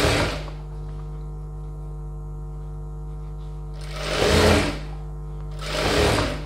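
An electric sewing machine stitching chudidhar top fabric hums steadily up close, swelling twice into louder whirring bursts as it runs faster.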